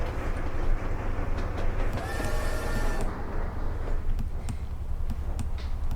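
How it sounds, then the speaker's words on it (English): A real train passes outside, making a continuous heavy rumble with rolling rail noise and faint clatter that holds steady throughout, with no voices. "there is a train, a real-life train actually, going right past me"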